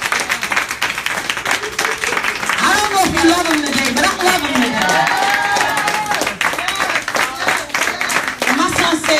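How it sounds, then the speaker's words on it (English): A Sunday morning church congregation claps along, the rhythmic hand claps running steadily under a preacher's loud amplified voice, with sung or chanted tones rising and falling over the clapping. "Come on, clap your hands."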